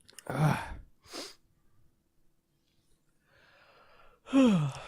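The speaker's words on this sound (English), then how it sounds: "Uh-oh. I got a sneeze coming." A man gasps and breathes in as a sneeze builds, a short pause and rustle follow, then a loud close sneeze bursts out at the end, set against an indoor podcast-style setting.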